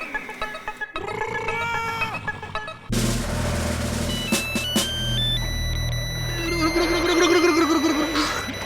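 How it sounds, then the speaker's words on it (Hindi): An electronic phone ringtone plays a repeating melodic tune, fairly close and loud, over background music. "फोन आया है, फोन।"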